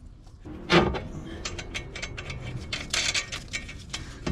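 A hand ratchet tightens the upper CV axle nut on a 2010 Mazda 6 3.7L FWD, giving a run of quick, close, sharp mechanical clicks with short pauses between strokes.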